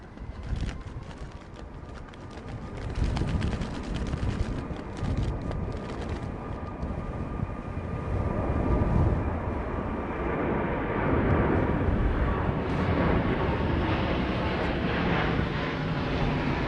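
An airliner caught in storm winds from Storm Darragh aborts its landing and goes around, a steady broad roar of jet engines and gusting wind that swells louder after the first few seconds and holds throughout.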